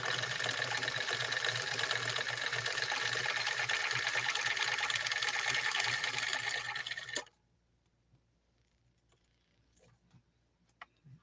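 A sewing machine stitches with delicate 100% rayon Sulky thread, a steady close whirring hum for about seven seconds that stops abruptly, followed by near silence with a few faint clicks.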